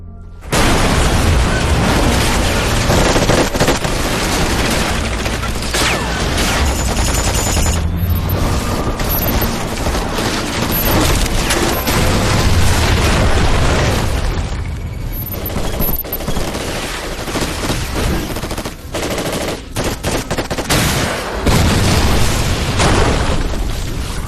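Fuel and bomb explosions in an action film erupt one after another over dense, loud gunfire-like crackling and booming. The roar runs almost without a break, pausing briefly only twice.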